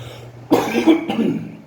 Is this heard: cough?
yes